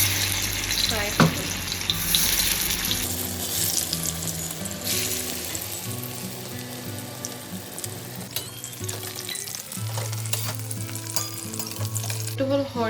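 Ridge gourd slices frying in hot oil, a steady close sizzle with bubbling crackle and occasional clinks of utensils, continuing without talk.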